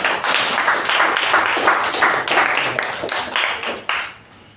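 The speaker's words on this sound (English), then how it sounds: "A thunderous round of applause, everyone." Audience at a Toastmasters meeting gives a thunderous round of applause, dense close clapping that holds steady for about four seconds and then stops abruptly.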